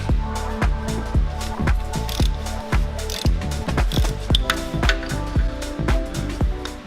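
A ratchet wrench works on the exhaust manifold bolts of a 9th-generation Toyota Corolla, giving rapid, loud, close clicking in repeated bursts with short pauses between strokes.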